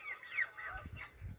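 Farmyard geese honk in a short run of nasal calls, fairly close and moderately loud, with a few low thumps beneath and no speech.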